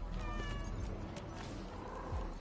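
Cats meowing in the game Arknights: Endfield, several short cries overlapping against a busy, noisy game soundscape.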